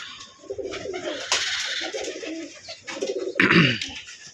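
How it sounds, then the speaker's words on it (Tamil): A Karna pigeon in a home pigeon collection coos in low, soft, repeated phrases, close by, with some brief broadband noise and rustling in between and a louder burst near the end. "இது வந்து கர்ணப்புறா பேரு."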